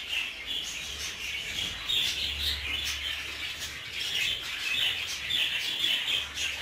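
Budgerigars chirp and tweet continuously in a busy chorus, high and fairly close, with a low hum running underneath, in an aviary after rain.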